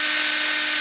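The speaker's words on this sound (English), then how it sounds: "So we'll take this and set this right into the chuck of the drill." A power drill spins a brake caliper tool clamped snug in its chuck while working on a 2007 Nissan Altima's front brakes, a steady high-pitched whine held for under a second at close range.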